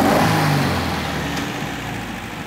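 A Porsche 356 engine on Solex 40P11 carburetors, loud and close, revs at the start and then slowly settles back toward idle as the steady engine drone fades a little.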